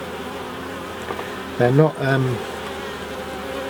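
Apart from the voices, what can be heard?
honey bees buzzing in a hive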